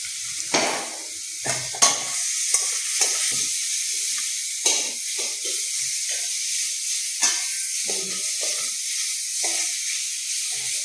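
Soaked tamarind stirred in a cooking pan for a village-style Assamese tamarind pickle, with a steady sizzling hiss running throughout and repeated scraping stirs of the spoon against the pan, up close and with no talking.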